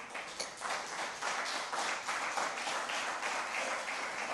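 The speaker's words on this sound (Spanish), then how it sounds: "Dele un aplauso al Señor." Steady applause from a sizeable church congregation fills the whole stretch, dense and even in loudness, with no voices standing out.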